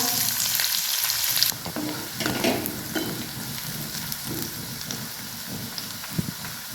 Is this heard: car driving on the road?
no